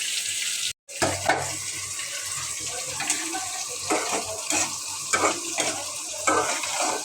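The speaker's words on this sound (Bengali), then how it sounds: "টমেটো আর পেঁয়াজ একসাথে ভুনা করে ফেলবো" Tomato and onion fry in a pan, a soft sizzle broken by repeated scraping stirs at an uneven rhythm, close and fairly quiet, with no talking.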